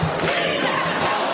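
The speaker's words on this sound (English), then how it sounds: "The crowd voicing their opinion, strongly opposing the addition of migrants in their community." A packed crowd at a public forum in a high school shouts in loud, sustained protest, a dense roar of many raised voices with no single speaker standing out.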